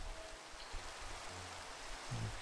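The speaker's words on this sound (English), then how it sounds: "Hear the rain on this side." Steady rain in the video game Minecraft hisses evenly, a dense wash of falling drops with a faint low thump near the end.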